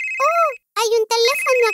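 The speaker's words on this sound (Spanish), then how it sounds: "¿Suena un teléfono?" A telephone rings with a bright, steady electronic tone in a Pinkfong children's cartoon, heard in two bursts with a short gap between them and mixed with animated character voices.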